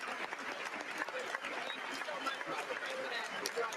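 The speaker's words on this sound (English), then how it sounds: "And they're clapping like fools." Audience clapping in a large chamber at a State of the Union address, heard faint and somewhat distant with a voice talking over it.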